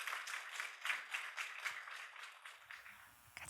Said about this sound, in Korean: 박수로 모셔드리도록 하겠습니다